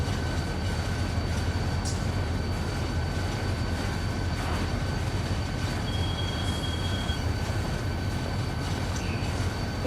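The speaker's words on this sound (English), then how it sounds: "I've got the window open here just a little bit so I can hear the slack action in my headset." A freight train in the Run 8 train simulator game rolls along with a steady, loud rail rumble and continuous wheel noise, heard up close without any distinct couplings clanking through.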